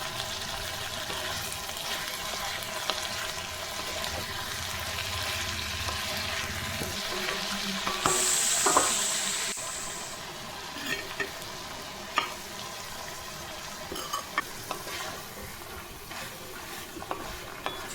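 Tomato, potato, onion and green chillies sautéing in a pan, a continuous close sizzle with scraping stirs, a brief louder burst midway, then quieter frying with scattered clicks of the spatula.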